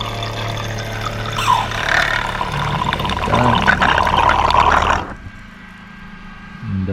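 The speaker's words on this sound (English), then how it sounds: "That's the water pump, guys." A small DIY camping water pump hums and gurgles with rushing water for about five seconds, then cuts off abruptly, leaving a faint hum; a short word is spoken near the end.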